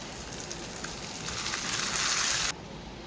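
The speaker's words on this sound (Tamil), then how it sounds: "நம்ம எண்ணெய் ஊற்றி கடுகடுப்பு கருவேப்பிலை போட்டு தாளிச்சதை தயிர் சட்னியில் ஊற்றிக்கலாம்." Hot oil tempering with mustard seeds and curry leaves, a close hissing sizzle that swells louder over a couple of seconds before cutting off abruptly.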